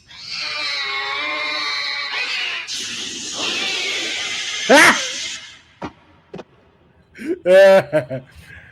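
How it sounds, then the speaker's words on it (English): A cat in an anime lets out a drawn-out, wavering meow, followed later by a sharp higher yowl, with quiet gaps and short bursts of other sound between. "There's that damn dirty cat."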